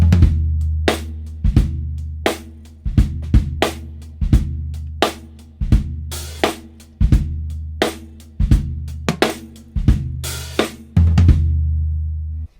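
Drum kit plays a hip-hop groove with ghost notes and a relatively dry snare, steady punchy kick and snare backbeats threaded with softer in-between strokes, close and loud for about twelve seconds, no voices.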